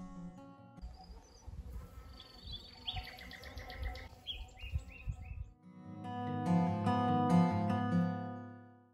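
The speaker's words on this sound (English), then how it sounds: "the birds are chirping so much every morning" Spring birdsong on a homestead: busy chirps and tweets mixed with insect buzzing, then a closer, louder stretch of layered calls, with no one talking.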